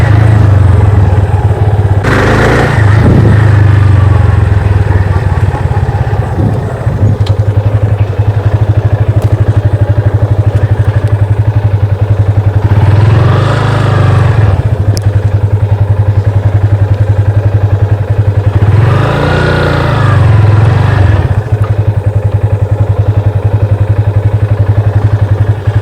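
Yamaha FZ25 motorcycle engine droning steadily and loudly throughout while being ridden, with a low constant hum, wind buffeting and a few louder surges as the throttle rises.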